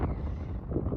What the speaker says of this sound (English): It's also been very windy.